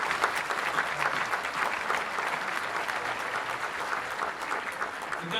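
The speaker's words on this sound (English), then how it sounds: "A round of applause," Applause from a banquet audience at an annual meeting and awards dinner, a dense, steady clapping from a large crowd that fills the whole stretch without letting up.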